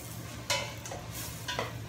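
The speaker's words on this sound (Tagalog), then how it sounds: "So, lutuin lang natin siya sa medium fire." Tomato sizzles and is stirred in a pan over medium heat while cooking for dinuguan, giving a steady close frying hiss broken by a few scraping stir strokes, with no talk.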